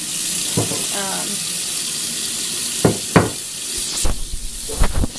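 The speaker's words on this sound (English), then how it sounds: "get the cold water going." Cold water runs from a kitchen tap in a steady, loud rushing hiss, with a few sharp clinks and knocks of a measuring cup near the end.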